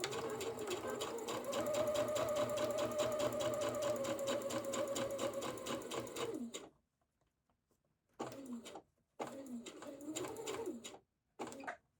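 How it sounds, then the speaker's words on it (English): A sewing machine stitches dress fabric for an open-back dress, running in one steady, fast stretch of about six seconds, then stopping and restarting in three short bursts with pauses between. "stitch to there, back stitch, leave a gap"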